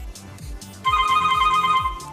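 A Nubia Alpha smartwatch rings with an incoming call, a bright repeating electronic ringtone that starts partway through and sustains steadily over a looping low beat.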